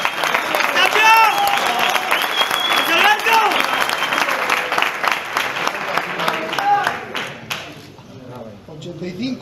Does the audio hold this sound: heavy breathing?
no